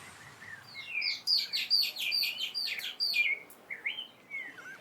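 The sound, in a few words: social flycatcher alarm calls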